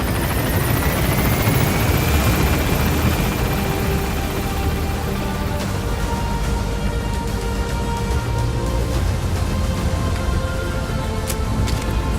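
Helicopter gaining altitude in the Metal Gear Solid V: The Phantom Pain video game, a loud, continuous rotor roar and turbine whine filling the whole stretch with a slowly shifting pitch and no speech.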